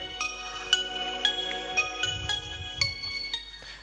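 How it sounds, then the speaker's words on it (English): A sonification of a specific water's mineral composition: sparse, bell-like chiming tones struck one at a time in an irregular rhythm, with soft low thumps beneath, quiet and alone. "What we did also, we converted the mineral composition into sound."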